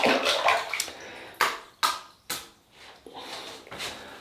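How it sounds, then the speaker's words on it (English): A black synthetic-knot RazoRock 400 shaving brush with an aluminium handle whips Dear Barber shaving cream into lather, making wet, squishy swirling strokes and several sharper slaps at close range, fairly quiet and with no talk. "we're going to use this special edition RazoRock 400 in aluminium with a black synthetic knot there. So we'll get lathering."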